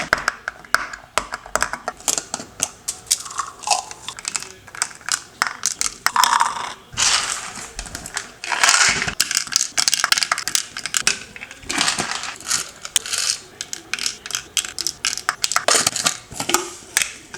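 Vitamin pills are refilled into a container, with dense, irregular rattling and clicking of tablets tumbling and shaking, plastic handling knocks, and occasional louder clatters close by.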